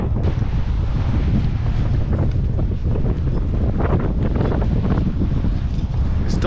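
Strong gusting outdoor wind, around 50 km/h, buffeting the microphone at a fishing competition, a constant loud roaring rumble with no let-up across the whole stretch.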